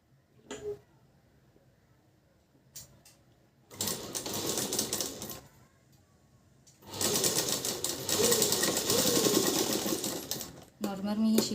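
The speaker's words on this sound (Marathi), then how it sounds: "ह्या कॉर्नरपासून घेऊन ते ह्या कॉर्नरपर्यंत शिलाई मारणार आहे." A sewing machine stitches across joined cross patti fabric strips, running in two bursts, a shorter one and then a longer, steadier whirring run, close and fairly loud, with brief pauses between.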